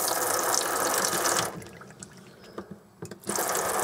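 Cold water running from a sink tap in a 2002 Ace Jubilee Statesman four-berth touring caravan, a close steady gush that stops midway, leaving a few drips and clicks, then starts again.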